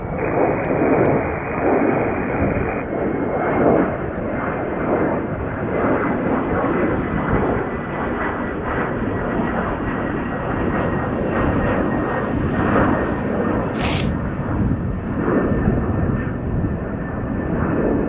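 Jet airliner departing Chicago O'Hare International Airport, a loud continuous engine roar sustained throughout at steady volume, broad rumbling with a whining tone, no talk over it.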